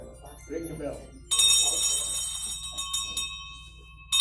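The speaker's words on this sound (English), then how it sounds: "Ring the bell." A bell rung at the start of a church fellowship meeting, a bright, clanging ring that sustains and decays after brief chatter, with a second strike right at the end.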